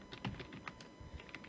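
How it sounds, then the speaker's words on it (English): Quick, light keystrokes on a computer keyboard tap out a short irregular burst, close but quiet, with no voices. "so if you type in"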